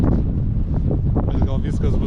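Strong wind on a mountain near Buzludzha, Bulgaria, roars and buffets the microphone in a continuous, loud low rumble, with a voice faintly heard under the gusts.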